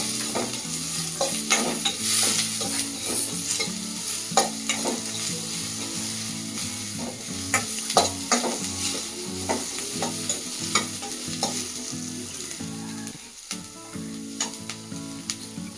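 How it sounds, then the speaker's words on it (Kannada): Capsicum fries in a pan for a paneer gravy, with a steady sizzle and repeated spatula scrapes and stirs knocking in an uneven rhythm throughout, close and fairly loud. "ಕ್ಯಾಪ್ಸಿಕಮ್ ಫ್ರೈ ಮಾಡಿ."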